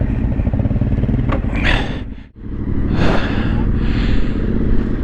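A trail motorcycle in the Yorkshire Dales runs loud and close, its engine chugging and rumbling, with a brief dip before it revs again and pulls away on rough ground.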